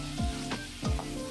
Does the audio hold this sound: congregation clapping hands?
no